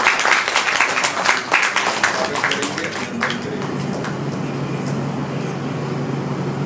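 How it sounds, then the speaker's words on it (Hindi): Loud applause from a seminar audience in a hotel hall honouring a guest at a National Education Policy event, crowded clapping for about three seconds that then dies away into a low room hum. "एक बार जोरदार ताली बजा"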